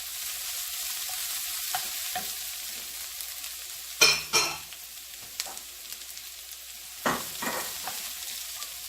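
Pancetta fries in a pan for Sicilian-style chicken, a soft steady sizzle running throughout with a few sharper clinks and stirring knocks around the middle and toward the end.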